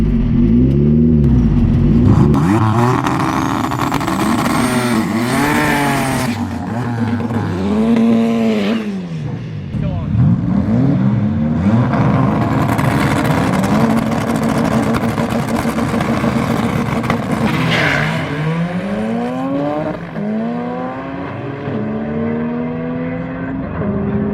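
A Volkswagen Beetle drag car built on a Toyota MR2 chassis makes a full drag strip pass, its engine screaming loud and close through repeated rising revs and gear shifts, with brief dips between pulls and no talking.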